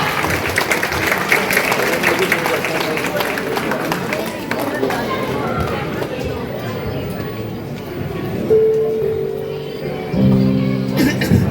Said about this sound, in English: a big round of applause for Mr. Ratan Tata.